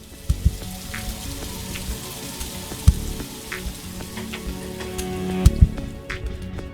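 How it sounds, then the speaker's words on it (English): Steady rain in The Riftbreaker video game, an even hiss of drops on the ground with a few soft thumps, no voices. "The rain is over."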